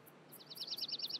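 Bird call effect from an Unreal Engine sound design demo, a quick run of bright, repeated chirps in a steady rhythm, clear and close over a faint background hiss.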